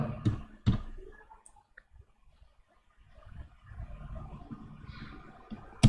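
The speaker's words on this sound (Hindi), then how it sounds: "इंटर प्रेस करते हैं" A computer keyboard's Enter key pressed while entering a prime-number range program, heard as a couple of sharp, close clicks near the start, followed by a quiet stretch and soft low background rumble.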